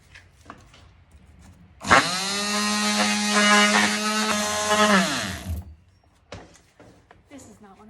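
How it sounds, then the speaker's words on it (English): A mouse sander with 80-grit paper works across a wooden top, a steady, loud motorized whine that starts abruptly, holds for several seconds, then winds down, with faint handling noises before and after. "this is when I'm going to use the mouse sander"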